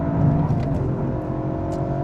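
A 2021 Toyota GR Yaris Rallye with short gearing launches hard, its engine a loud, close, sustained growl that stays steady for the whole stretch with no voices over it.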